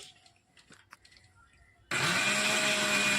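A mixer grinder whirs loudly in pulse mode into a steady high-pitched grinding roar after a moment of quiet clinks, running continuously to the end.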